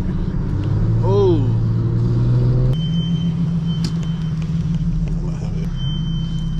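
An Infiniti G37 fitted with downpipes launches in a street race in Mexico, its engine droning in a steady low rumble that rises in pitch partway through. A voice talks over it in places.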